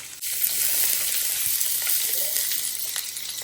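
Chopped onions and garlic sizzle steadily in a hot pan, a close, continuous frying hiss with a faint scrape of stirring partway through and no voices.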